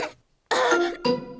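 A cartoon pig from Peppa Pig coughs twice in quick succession, close and clear, with a short rasping burst followed by a second shorter one.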